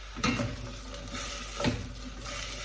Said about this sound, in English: just on a gentle heat, I'm just going to sweat the onions down until they're nice and soft